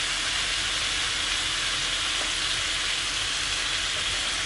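Spices and chilies frying in hot oil in a pan for a mutton chops curry give a steady, loud, hissing sizzle that holds unbroken from start to finish, with no voices over it.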